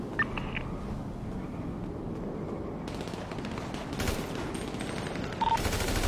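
Gunfire during a police raid in a GTA roleplay game, dense rattling automatic fire continuing steadily at moderate distance with a few sharper cracks.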